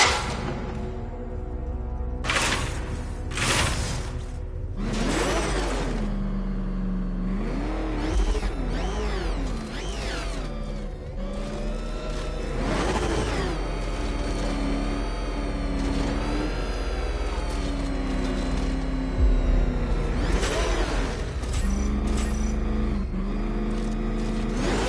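The Batmobile in a Batman video game roars along with a loud engine that surges and revs repeatedly, punctuated by bursts of noisy impacts and whooshes, with tonal swoops suggesting sirens or effects layered over the drive.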